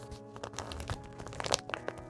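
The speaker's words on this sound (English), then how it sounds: "Ugh, it's crinkly. There's plastic in there." Crinkly plastic wrapping inside a Legion Go 2 handheld console's case rustling and crackling close up, with scattered sharp crunches over about two seconds.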